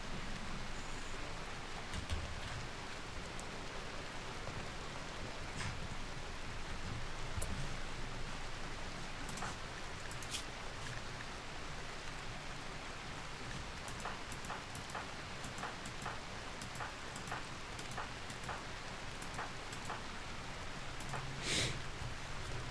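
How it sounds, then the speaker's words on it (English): Rain falls in the video game RimWorld as a soft, steady wash of noise, faint and unbroken, with a few scattered ticks over it. "For the first time on this map tile I've ever seen it, it's actually started to rain."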